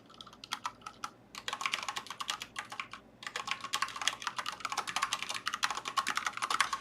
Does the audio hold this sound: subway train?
no